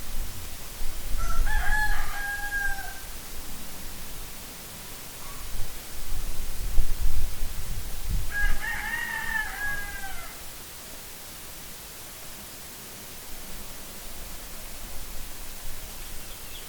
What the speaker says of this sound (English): Chickens think I'm feeding them.